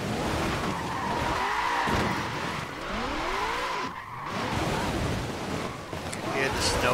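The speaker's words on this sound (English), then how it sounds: "You hear the snow going up into the back of the car" Tyres of a 1968 Mustang GT spray snow while wheelspinning and sliding in the racing video game Forza Horizon 4, a steady loud hiss and rush with engine drone throughout.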